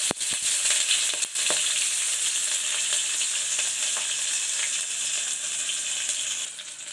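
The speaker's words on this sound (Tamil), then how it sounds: "இப்போ வெங்காயத்தை நல்லா வதக்கிக்கலாம்." Thinly sliced onions and green chillies fry in hot ghee, a steady close sizzle that runs the whole time, with a few stirring clinks near the start and no voices.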